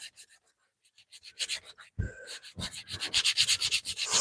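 Hand sanding of a wooden carving, a run of dry rubbing strokes in a steady back-and-forth rhythm, close and fairly loud, growing denser toward the end with no talk over it.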